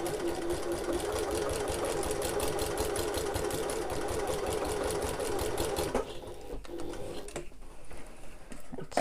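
A sewing machine stitches a backpack in a fast, steady rhythmic clatter for about six seconds, then stops, leaving quieter handling noises and a few clicks.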